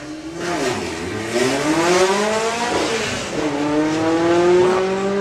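A loud Volkswagen drag racing car roars and revs as it accelerates hard down the track at Santa Pod Raceway, pitch climbing through gear changes, close and continuous with no voices.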